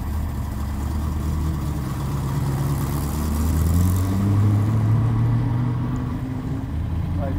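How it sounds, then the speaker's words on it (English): Ford GT engine running at a steady idle, a low continuous rumble with slight rises in pitch partway through, close by with no clear speech. "I just love the sound of this engine."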